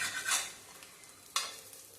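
A poha breakfast snack cooks on a hot griddle over a full flame, with a faint sizzle beneath two sharp spatula scrapes as the piece is turned. No voices.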